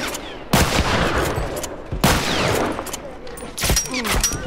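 Rapid bursts of gunfire from The Last of Us Remastered's Financial Plaza multiplayer map, three loud volleys at roughly even intervals with sharp cracks and rumbling tails, with faint background activity between shots.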